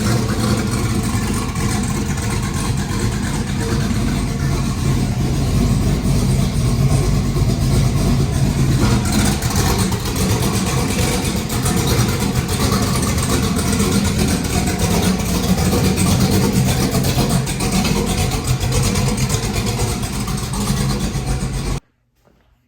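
Camaro engine running on a dyno, a continuous loud, rough engine drone with fluctuating revs that holds for over twenty seconds before stopping abruptly.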